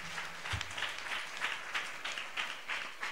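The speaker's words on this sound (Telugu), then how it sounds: "చప్పట్లు కూడా దేవుడి స్తుతిద్దాం. కొంచెం గట్టి కొట్టండి." A church congregation claps in praise during a Sunday service, a fairly quiet, steady run of rhythmic applause from a crowd with no voices over it.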